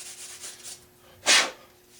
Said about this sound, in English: you want to get these sanded down